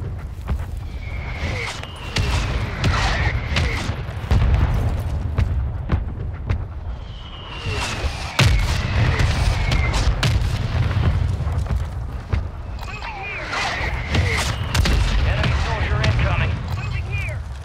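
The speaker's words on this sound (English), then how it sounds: "Mortar strike inbound now." Mortar strike explosions in Call of Duty Modern Warfare 3 Plunder mode, heavy low booms and blasts rolling through a dense battle din with scattered gunfire, repeating in waves.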